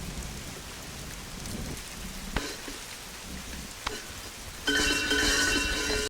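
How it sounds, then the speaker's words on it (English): Steady rain pours down in a film scene, a broad hiss with a couple of sharp drop impacts, then growing louder and brighter near the end as the downpour intensifies, with no voices. "suddenly it started raining"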